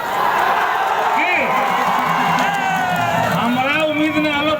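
Large crowd at a Tejashwi election rally in Pathrol cheering and shouting, a dense roar with whoops and shrill rising calls, loud and sustained.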